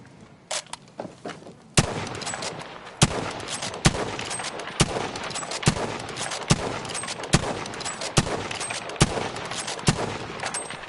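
Gunfire in Battlefield V: a series of sharp single shots spaced about a second apart, with a few fainter pops first and a steady rumble of game noise underneath, no voices.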